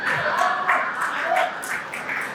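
Audience applause at a Sandalwood badminton jersey launch event, a dense, steady patter of many hands clapping throughout, fairly close and unbroken.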